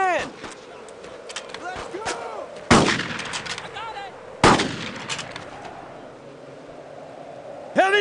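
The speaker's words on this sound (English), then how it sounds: "Heavy fire, right there!" Gunfire in the World War II shooter Brothers in Arms: Road to Hill 30, with loud, close single rifle shots spaced a couple of seconds apart amid distant crackling fire and shouted voices.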